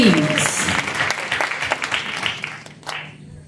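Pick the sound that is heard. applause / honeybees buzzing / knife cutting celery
applause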